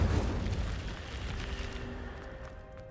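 An Incendio fire spell goes off in a Harry Potter video game with a loud, whooshing burst that fades into a lingering, crackling roar over about three seconds, with no voices.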